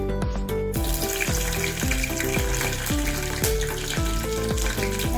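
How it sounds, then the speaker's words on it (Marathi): Mustard seeds sizzle and crackle in hot oil for Marathi-style gavar, a loud continuous fry with dense popping throughout, close and alone. "आता थोडी मोहरी घालूया, तेल काढलेलं आहे।"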